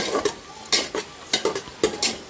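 Onions, green chillies and mint frying in oil and ghee for a potato biryani, with steady sizzling under repeated scraping stirs of a spoon against the pan, close and fairly loud, about six or seven strokes.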